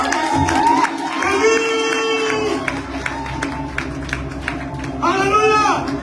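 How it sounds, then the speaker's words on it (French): A church congregation cheers and shouts in acclaim of the Lord, a loud crowd roar with bursts of voices swelling and easing over several seconds, peaking again near the end. "acclamons le Seigneur, c'est ce que"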